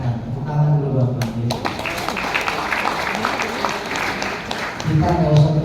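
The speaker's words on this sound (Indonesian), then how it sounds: "Tepuk tangan dulu Bapak." Applause from a church congregation at an Indonesian Christmas celebration, a dense burst of clapping spread through the middle of the clip, with a voice speaking at the start and end.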